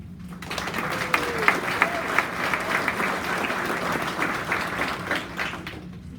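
An awards ceremony audience breaks into steady clapping, a full, even roomful of hands that swells in quickly, holds for several seconds and thins out at the end, with no talking over it.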